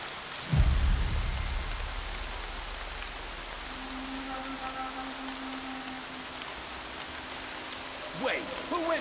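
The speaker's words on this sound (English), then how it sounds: "More rain. My boots will get damp." Steady rain patters in a PS4 video game, with a low thud near the start and a few faint tonal game sounds over the continuous hiss.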